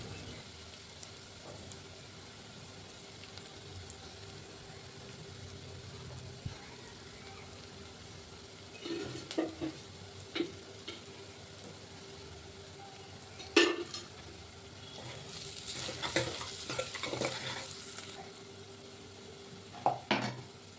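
Onions sizzle faintly in a pan over a low background, with scattered clinks and scrapes as a utensil stirs them, in louder bursts toward the end.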